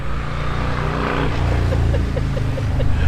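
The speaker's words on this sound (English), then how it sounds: "Thanks, motorcycle." A motorcycle passing by outdoors, heard as a steady, fairly loud engine drone with a slight rising tone, with no voices present.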